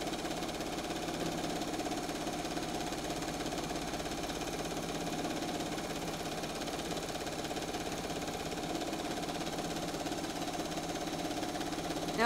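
A sewing machine running steadily during free motion quilting, an even mechanical hum and rapid needle vibration with no pauses, close and moderately loud.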